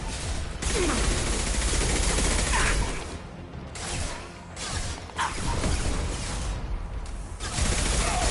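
Heavy gunfire in the Mass Effect 2 video game: loud, dense automatic bursts with mechanical clatter, broken by short lulls before the shooting picks up again, with no talking.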